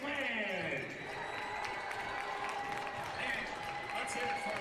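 High school boys basketball crowd in a gym applauding and cheering for the sixth man, a steady wash of clapping and voices with an announcer talking over it.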